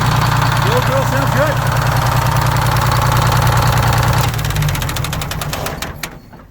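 A PD4104 bus diesel engine idles loudly and steadily with a deep, even rumble and a few brief chirping whines, then shuts down partway through and fades to near silence.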